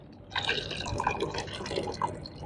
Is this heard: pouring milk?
yes